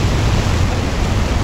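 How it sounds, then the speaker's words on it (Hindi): Fast-flowing water in a rain-swollen mountain stream near Dharamshala, heard as a loud, steady broadband rush with no pauses or voices. "पानी की आवाज़ सुनाई दे रही है आपको"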